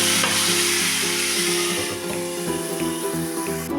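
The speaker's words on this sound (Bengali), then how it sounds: "এখন আমি এই আলুগুলো একটু ভাজা ভাজা করে নিচ্ছি" Potato pieces with salt and turmeric fry in oil in a pan, a loud steady sizzle with a few stirring scrapes near the end.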